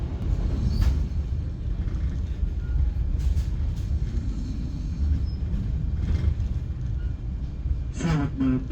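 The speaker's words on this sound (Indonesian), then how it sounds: "Sesaat lagi kereta api Sembrani akan tiba dan berhenti di stasiun Meranto." The Sembrani executive night express pulls into Meranto station, and a continuous low rumble of rolling wheels and carriages carries on steadily, with a few faint higher clanks over it.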